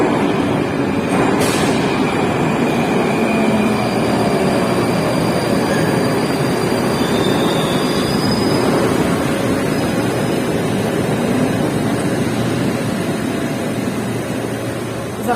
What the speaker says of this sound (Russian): И вот он, наш поезд уже едет.